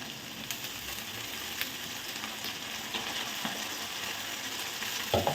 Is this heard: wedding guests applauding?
no